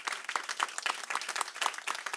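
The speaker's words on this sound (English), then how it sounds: "Another round of applause for everything they're doing." A rally crowd gives steady, dense applause from many hands, continuous and fairly close throughout without any talk.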